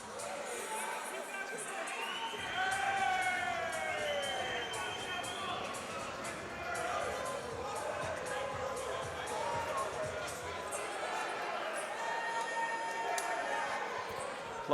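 Crowd noise at a bare knuckle boxing fight, a dense roar of cheering and shouting with whistles, continuing steadily under a commentator's voice.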